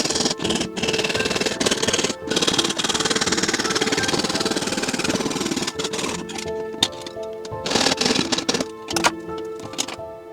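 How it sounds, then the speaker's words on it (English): A belt sander whirs and grinds loudly in sustained bursts filing the edges of silver sheet, cutting out briefly between passes, with a steady motor hum. "Here I'm using this belt sander"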